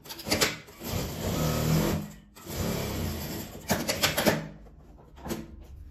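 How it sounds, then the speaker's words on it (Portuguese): A sewing machine stitches a fabric bag in bursts of steady running, with brief pauses and a reverse stitch, fairly close and clear with no talk. "Dá um retrocesso, tudo essa abertura e continua costurando."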